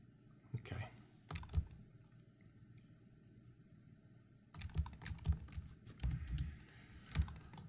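Keys clatter on a computer keyboard in short bursts of quick, quiet taps, with a pause in between, as modeling shortcuts are entered.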